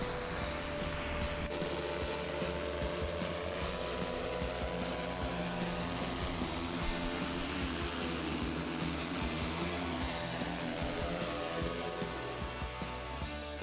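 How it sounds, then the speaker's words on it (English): A PRISM Sky delivery drone descends and hovers to eject a package, giving a dense, steady whirring drone that stays loud and close throughout with no talk. "the aircraft's simply gonna descend to 1 foot, hover, and then just eject the package right out of midair."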